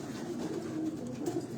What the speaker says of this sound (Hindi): काबली कबूतर है माशाल्लाह